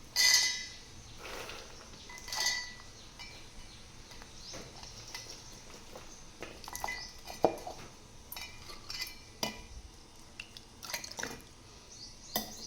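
Chutney ingredients, including curd, red chilli powder, salt, coriander powder and cumin, go into a mixer grinder jar with faint, scattered taps, clinks and soft drips at a quiet level.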